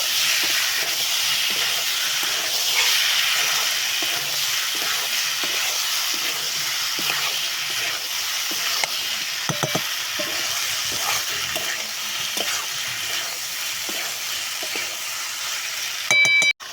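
Taro stolons (kochu loti) are sautéed with spices in a pan under a loud, continuous sizzle and hiss, with occasional scrapes of a spatula, and a sharp clatter near the end.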